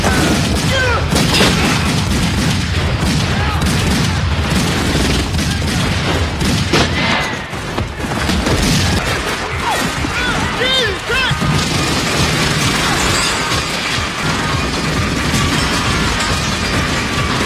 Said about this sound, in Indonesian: dari situ pun terjadi tembak-tembakan di mana Eric berhasil membunuh mereka semua,